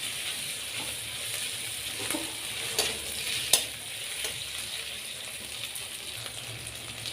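Chili paste and other ingredients stirred in a pan for a latha fish curry, a soft steady sizzle with occasional scrapes and one sharper knock, close but fairly quiet, and no one talking.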